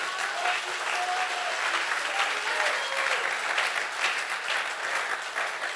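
A church congregation applauds to acclaim Jesus, steady sustained clapping filling the room at full volume throughout, with no voices standing out.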